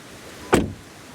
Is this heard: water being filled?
no